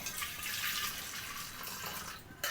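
Water strained off cooked horse gram, a steady close hiss of liquid pouring and trickling that breaks off near the end.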